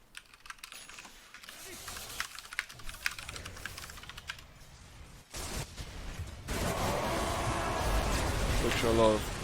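Computer keyboard typing, a scatter of light, close clicks and taps at moderate pace under talk, then giving way to louder game sounds.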